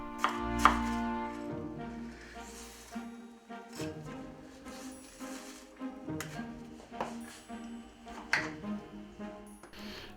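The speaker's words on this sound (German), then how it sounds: "Die schneiden wir in kleine Würfel und braten sie in einer Pfanne an" A knife chops onions into small cubes on a board in irregular bursts of quick, close taps, with sustained musical tones playing underneath.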